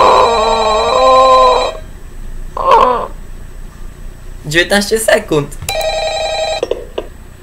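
A telephone rings in the video game Ultimate Custom Night, two bursts of loud electronic ringing at the start and the end, with someone speaking between them and sharp game noises overlapping.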